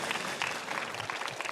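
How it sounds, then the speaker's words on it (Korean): A crowd at a televised town-hall event with Gwangju's mayor claps steadily for a brief moment, the applause soft and somewhat distant. "여러분 박수 부탁드리겠습니다."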